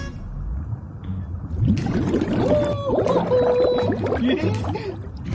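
A pod of dolphins in the sea in an animated series, with whistling, rising and falling calls over a steady underwater wash, near and fairly loud through most of the clip.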